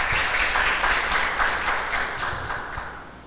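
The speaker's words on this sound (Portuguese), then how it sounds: "Uma salva de palmas," A church congregation gives a steady round of applause, a continuous wash of many hands clapping that slowly fades.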